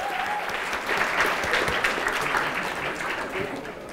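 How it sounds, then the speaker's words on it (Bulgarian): A conference audience applauds at the closing of a software testing event, steady hand clapping from a full hall holding at an even level throughout. "Аплодисменти за Лена."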